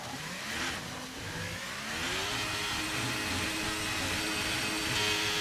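A Formula 1 car in a video game screams around Monza on a flying lap, its engine pitch rising through upshifts in a continuous high-revving drone.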